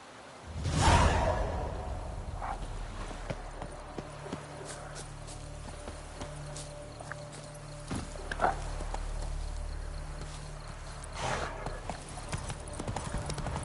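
Horse hooves clip-clop in a steady rhythm as a horse gets moving in The Witcher 3, the footfalls close and fairly loud, with a soft whoosh early on and light ambient game sound throughout.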